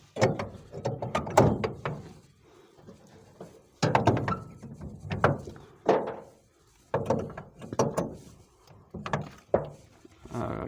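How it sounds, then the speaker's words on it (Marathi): A padlock is unlocked at a farm's electrical fuse box, giving a run of sharp metallic clicks and rattles in bursts, close and fairly loud, with no talk. "मग मी दोन मिनटं कुलूप उघडून घेतो"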